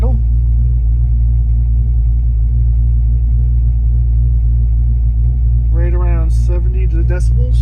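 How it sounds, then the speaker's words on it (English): Foxbody Mustang fitted with a Borla 2.5-inch cat-back exhaust idling on a cold start, a steady low rumble throughout, with a voice talking over it near the end. "here we are with a cold start idle"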